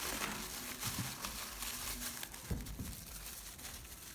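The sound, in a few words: plastic bag being tied tightly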